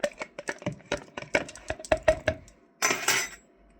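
Iced coffee stirred in a glass: a quick run of bright clinks as a spoon strikes the sides and ice, about a dozen taps, close and crisp, followed by a brief rattling swirl, with no talk.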